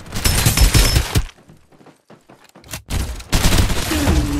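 Gunfire in the video game Farlight 84: loud, dense bursts of rapid shots, a brief lull with a few scattered cracks, then another heavy volley.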